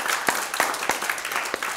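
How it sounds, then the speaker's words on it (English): A church congregation claps hands together during a Sunday service, a quick burst of roughly six sharp, evenly spaced claps blending into light applause, close and fairly loud, with no talking. "Give the Lord a hand clap."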